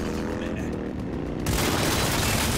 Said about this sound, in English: Oh, we're shooting.